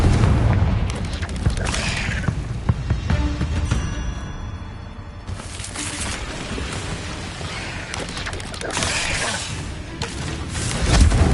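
Confringo spells explode in the Hogwarts Legacy video game, producing repeated heavy booms and blasts with rumbling tails and crackling debris, loud and close across the whole stretch.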